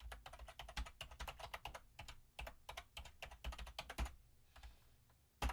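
Rapid typing on a computer keyboard, a dense run of crisp clicking keystrokes with a short pause near the end and a final sharp tap, close and alone.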